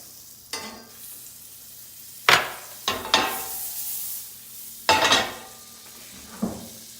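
Olive oil and a pat of butter sizzling in a pan before searing salmon, heard as a faint sizzle under several sharp clattering hits of utensils and pan, with no speech.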